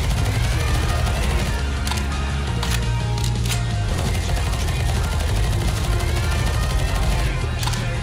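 Gunfire and grenades in the video game CS:GO zombie escape mode, a continuous dense barrage of rapid shots with occasional bursts layered over it, loud and unbroken.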